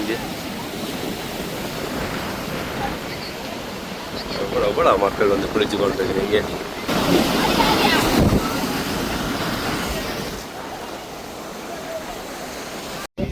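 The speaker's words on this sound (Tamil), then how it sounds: "கடல் சத்தம் வந்து அப்படி" Sea waves wash onto a beach in Jaffna, a steady broadband surf roar with gusty wind on the microphone, running under people talking throughout.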